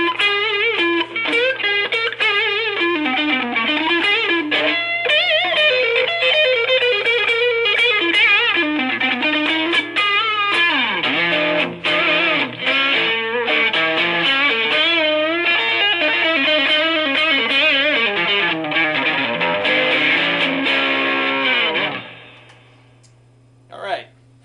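Electric guitar played through a Fender Blues Junior amp with the reverb turned up high, sustained chords and single notes ringing loud and steady for about twenty seconds before fading into a reverb tail.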